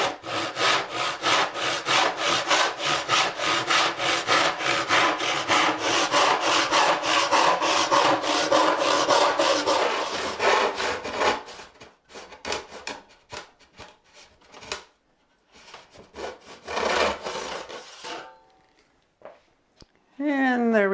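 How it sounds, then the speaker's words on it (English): A back saw cuts through wood in fast rhythmic strokes, close and loud, then stops. Scattered handling sounds follow, and a voice comes in at the end. "this is just how I usually do back saws"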